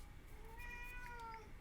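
A pet cat meows once in a drawn-out, rising and falling call, faint and close, over a low background hum.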